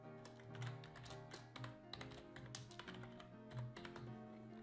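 Rapid typing on a computer keyboard, with a quick run of soft, close key taps that is continuous and fairly quiet, with no voice over it.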